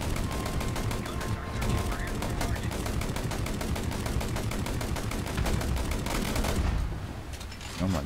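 Weapons fire in a video game, a loud, nearly continuous rattle of rapid shots from several guns at once, with a player talking underneath before the barrage thins out near the end.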